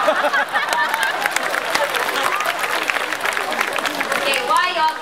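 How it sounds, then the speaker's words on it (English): An audience at a live show in Singapore claps busily and continuously, with crowd noise and a few voices mixed in under the clapping. "Okay, why y'all clapping?"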